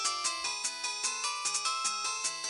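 A melodic electronic phone ringtone plays alone, its repeating chime pattern cycling steadily at moderate loudness.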